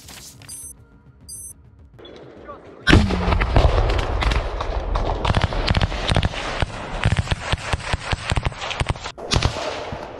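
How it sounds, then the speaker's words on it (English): A grenade launcher fires at close range in a combat zone, a sudden loud blast followed by a rapid chaotic barrage of sharp bangs and cracking explosions, after a quieter opening with electronic beeps. "A Russian soldier hit the position where Ukrainian soldiers were located with a grenade launcher at close"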